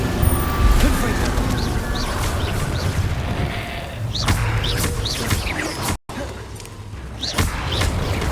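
Confringo fire spell cast over and over in Hogwarts Legacy combat, each a short fiery whoosh and burst amid a dense, loud battle din with creature bleats and shouting voices.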